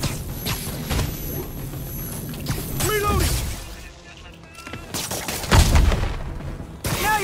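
Gunfire in the superhero action game Marvel's Spider-Man: sharp shots and bursts crack out near and loud amid busy combat noise, with characters shouting and talking throughout.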